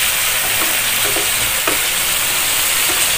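Chicken liver for adobo sautéing in a pan, a loud, steady close sizzle of frying with faint stirring scrapes and no talk.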